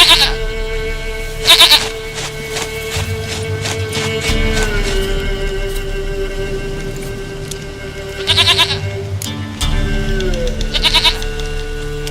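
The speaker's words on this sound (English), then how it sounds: "Goat of mine, dearest, sweetest goat." Goat bleats in The Witcher 3: Wild Hunt, several short wavering cries near 1.5, 8.5 and 11 seconds, loud and close over steady game ambience and music, with livestock and hoof-like background sounds.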